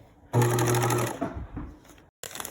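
A sewing machine back stitching blouse fabric whirs in one loud, close burst lasting under a second, then slows and stops, with a short restart at the end.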